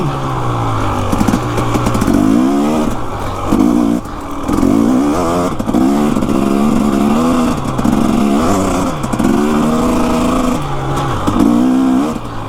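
A motorcycle engine runs loud and steady close by, with repeated throttle blips and revs rising and falling across the clip, alone without talk.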